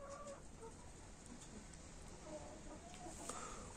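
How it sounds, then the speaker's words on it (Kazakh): Hens in a backyard coop cluck and cackle faintly, with short scattered calls over a constant background hiss and no talk. "Бұл енді тауықтар қырқылдап жүр"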